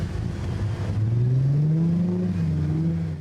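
A boat's motor revs off the coast of Martinique, a loud, steady engine drone whose pitch climbs gradually and then holds, with no voices over it.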